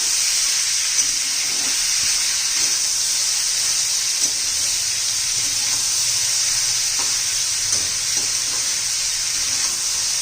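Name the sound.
bitter gourd curry sizzling while being mixed in pan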